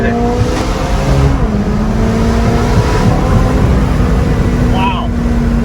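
A McLaren 570S Spider sports car accelerates hard, its engine a loud, continuous drone with rising harmonic tones, captured close from inside the car, with people talking over it.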